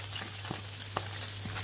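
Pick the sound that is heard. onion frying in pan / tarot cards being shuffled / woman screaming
onion frying in pan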